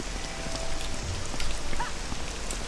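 Steady rainfall in the Morrowind video game on the road to Pelagiad, a dense even patter of drops heard alone and fairly close throughout.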